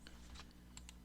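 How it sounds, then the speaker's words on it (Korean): A single key press on a computer keyboard, giving a few faint, short clicks over a low steady hum. "F2 키 키보드에서 한번 눌러 보겠습니다"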